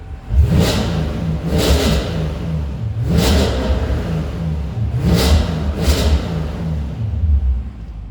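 A 2015 Audi S6 4.0 turbo V8 with APR Stage 2 tune revs hard in repeated bursts, about five throaty pulls rising and falling over a steady deep idle rumble, loud and close.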